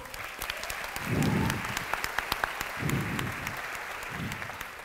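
Applause crackles steadily through an audience at a live stage show, a dense wash of many hands clapping at a moderate, even level for several seconds, with a few louder sharp claps standing out and occasional low murmurs underneath.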